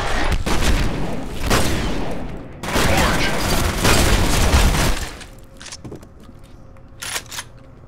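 Shotgun blasts in the shooter game F.E.A.R., several loud booming shots in heavy bursts followed by quieter sharp reports, with game effects around them.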